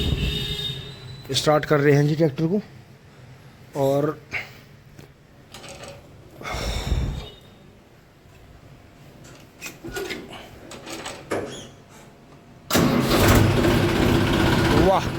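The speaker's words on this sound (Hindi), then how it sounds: "स्टार्ट कर रहे हैं जी ट्रैक्टर को।" A Massey Ferguson tractor engine cranks and catches, then settles into a loud, steady diesel idle with a low rumbling drone, while someone talks over it in places.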